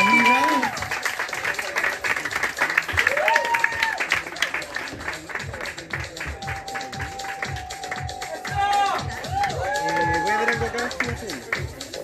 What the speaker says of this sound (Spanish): Un fuerte aplauso para Dani Ratch.